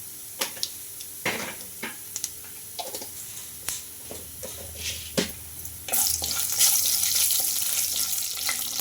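Chana dal, urad dal, cumin and mustard seeds fry in hot oil in a pan: scattered sharp crackles and pops at first, then a sudden louder, continuous sizzle that holds to the end.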